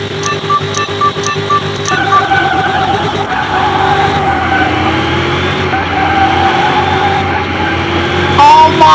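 A tuned GTR race car in Car Mechanic Simulator 2021 roars at high revs on a racetrack, its tires squealing and skidding continuously while the engine pitch climbs and shifts, loud and close throughout.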